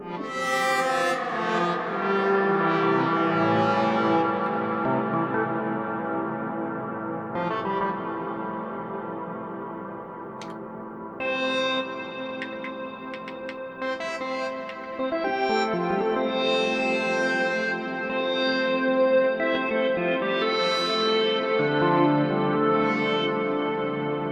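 Lush synthesizer chords from a Novation Peak on reverb setting 2 ring out with a noticeably longer, spacious reverb wash, notes blending and decaying into one another over the passage.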